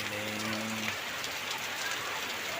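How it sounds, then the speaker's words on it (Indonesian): Heavy rain pours down steadily over a village in Tasikmalaya, a dense continuous hiss and patter with a brief low hum fading out early on. "Hujan deras, sobat."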